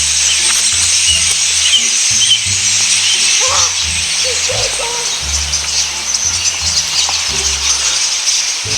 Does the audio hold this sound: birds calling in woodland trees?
yes